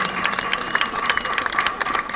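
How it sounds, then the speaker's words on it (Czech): An outdoor audience at a trumpeters' competition in Pelhřimov applauds in a dense, continuous patter of many hands, fairly close, with a faint sustained tone beneath. "Tak přátelé, tleskejte, tleskejte, ať se zahřejete"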